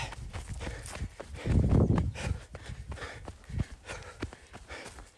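A runner's footsteps descending a hill during a Spartan Big Bear Sprint race, a quick, uneven series of crunching steps on dirt with a heavier scuffing cluster partway through.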